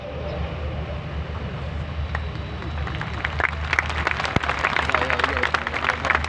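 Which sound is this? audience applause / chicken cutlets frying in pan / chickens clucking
audience applause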